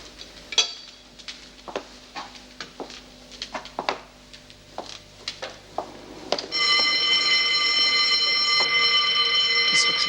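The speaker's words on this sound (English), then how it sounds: "All right, ladies, you heard the bell." An electric prison bell starts ringing partway through and rings on steadily and loudly to the end, after a stretch of clattering knocks and metallic bangs in a women's cell block.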